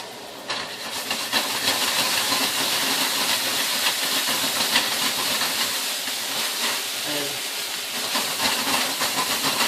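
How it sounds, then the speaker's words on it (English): Blended poblano peppers hitting a hot pan with roasted chopped garlic, a loud continuous steamy sizzle and hiss lasting the whole stretch, close and steady. "Then add our blended poblano peppers."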